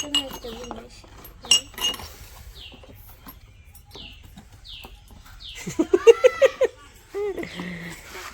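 Tea cups clinking as household gifts are handled at a village celebration: a few sharp, close clinks early on, then quiet with faint bird chirps, followed by a brief burst of voice.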